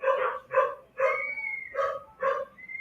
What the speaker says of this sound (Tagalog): masyado maraming aso dito sa amin. So, kaya ang ingay.